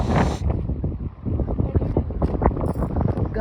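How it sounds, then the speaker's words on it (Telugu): Strong gusty wind buffeting the microphone at the shore of Gandipet lake (Osman Sagar) in Hyderabad, a steady rumbling roar that swells and dips throughout, with a voice speaking over it. "గాలికి తోసేస్తుంది మనిషిని."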